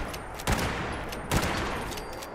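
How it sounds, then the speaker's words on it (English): Two loud lever-action rifle shots in Fallout 76, sharp cracks about a second apart over a steady ambient hiss, with no talk. "it does take quite a few shots to put these guys down"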